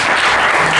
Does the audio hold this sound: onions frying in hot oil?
no